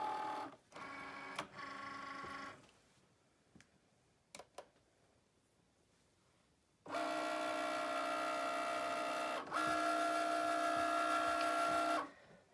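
Cutting machine driving a We R Memory Keepers Foil Quill over foil and acetate, loud whirring motor runs in start-stop bursts with a long sustained pass, punctuated by sharp clicks between movements.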